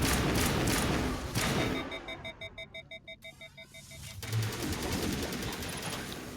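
Rapid automatic gunfire in Mass Effect Legendary Edition, a steady burst of evenly spaced shots over game ambience with electronic beeping tones, fairly close and moderately loud.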